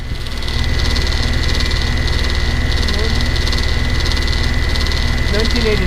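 A noisy Lennox air conditioner unit runs at close range with a loud, steady mechanical drone and hum that holds throughout, while someone talks over it.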